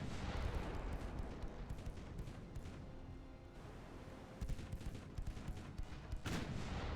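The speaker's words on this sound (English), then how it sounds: "There goes the volley of 3-inch guns." Naval gunfire from a volley of 3-inch guns in the warship game Ultimate Admiral Dreadnoughts: dense, overlapping booming shots over a steady battle rumble, with a sharper close report near the end.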